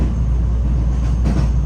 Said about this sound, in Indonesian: Kalau naik kereta di pelosok itu